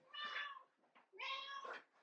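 A pet cat meows twice indoors, close and clear, with two drawn-out, tonal calls separated by a short pause.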